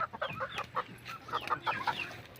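White leghorn and native chickens cluck softly and repeatedly in a backyard farm, in short irregular calls at moderate distance, faint overall with no talking.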